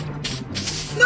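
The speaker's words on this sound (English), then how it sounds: "Okay, Snooky, take this can and spray me until I'm completely invisible." A cartoon aerosol spray can gives off steady, loud hissing bursts in quick succession, with a short gap between sprays.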